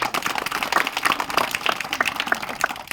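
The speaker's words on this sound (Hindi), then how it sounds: "ताली बजाइए पहले शक्ति" A crowd claps at an outdoor magician's show in a dense, continuous patter of many hands, fairly loud and steady throughout with no talk.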